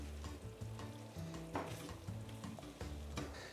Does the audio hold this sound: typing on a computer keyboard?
no